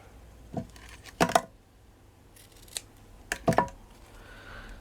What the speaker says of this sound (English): I'm just going to cut this one a little bit more.